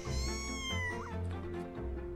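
Kittens meow in a town in the video game Mika and the Witch's Mountain, with several close, clear, drawn-out meows in quick succession over soft background music.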